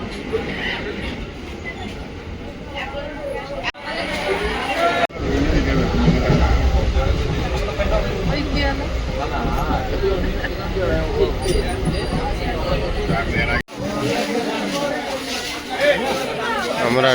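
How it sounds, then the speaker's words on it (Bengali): Dense crowd chatter and bustle fill a busy railway station, with train and rail noise rumbling underneath a continuous wash of many overlapping voices, briefly cutting out twice before resuming. "আর স্টেশনে দেখুন কত ভিড়"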